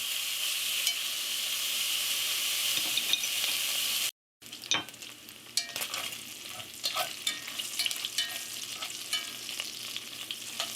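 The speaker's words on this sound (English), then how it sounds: "Throw your bacon in there and we're going to fry up our bacon." Bacon sizzles loudly in a hot pot with a steady hiss, then after a brief break it keeps frying with crackles and pops.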